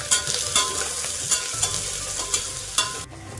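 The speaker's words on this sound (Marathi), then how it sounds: "कांदा टाकते, कांदा आपल्याला लाल रंगावरती परतून घ्यायचा आहे।" Onions frying in a pan with asafoetida, a constant sizzle punctuated by about six sharp scraping stirs at a regular pace, close and clear with no talking.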